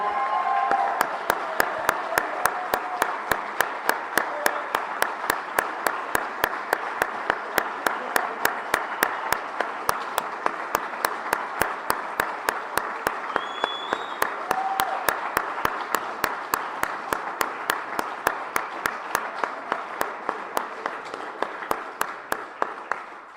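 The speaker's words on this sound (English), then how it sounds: "Can we please have a round of applause for Rich, Chris, Leslie, and Jim Gordon" A crowd at a political event gives a long round of applause, a continuous blend of many clapping hands with a prominent rhythmic clap up close, steady for over twenty seconds with faint crowd voices.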